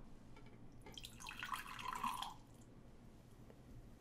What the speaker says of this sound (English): Alright, I'll pour myself a shot.